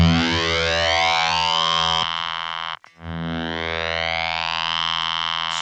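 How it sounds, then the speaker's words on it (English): A loud, buzzing synth tone fed into the front end of a guitar amp with distortion, rich in harmonics, sweeping up and down, cutting out briefly near the middle before the sustained drone resumes. "I've got assigned in there at the moment a synth going into the front end of my amp with a bit of a distortion"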